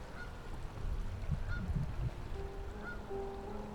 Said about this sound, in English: You can probably hear geese honking.